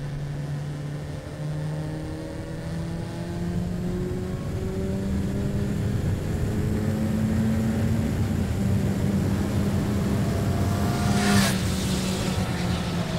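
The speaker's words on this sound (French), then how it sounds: "Là je suis en 5e, je vais vous faire une petite accélération, on va voir ce que ça donne." A Kawasaki Ninja 1100 SX SE four-cylinder motorcycle revs up in fifth gear through a long acceleration on a wet track, its pitch climbing smoothly and loudly over about thirteen seconds with a brief swoosh near the end.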